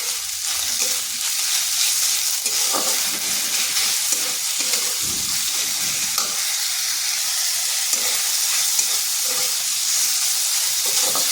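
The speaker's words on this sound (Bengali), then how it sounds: "আদা রসুনটাও ভাজা হয়ে গেছে" Ginger and garlic sizzle and fry in a pan for a potato snack, a steady bright hiss broken by occasional stirring scrapes and clinks, close and continuous.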